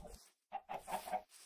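A chicken clucks in the Minecraft modpack From The Fog, giving a few short, soft clucks in quick succession after a brief pause. The sound is quiet and isolated.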